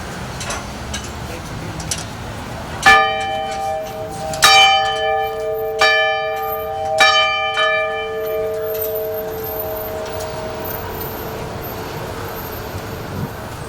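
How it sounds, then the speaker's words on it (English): A ceremonial bell rung at an outdoor Veterans Day ceremony in Lincoln Park sounds several clear, ringing strikes a second or so apart, each tone lingering and fading slowly over faint background murmur. "I'd like to ring this bell in honor of my aunt Philomene Goodell and her daughter Marilyn"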